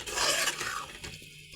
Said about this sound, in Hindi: ऐसे ही भूनेंगे हम इसको